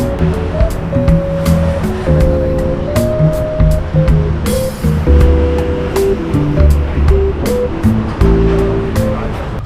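Waves and surf roll in steadily at Kata Beach in Phuket, loud and close, mixed with tonal background sounds and occasional sharp clicks.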